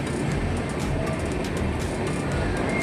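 A train rolls steadily alongside a railway platform, giving a loud, continuous rumble with a faint rhythmic clatter of wagons and no voices.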